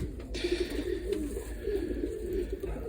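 Breeding pigeons cooing in a loft, a steady series of low murmuring coos close by, repeating through the whole stretch without talk.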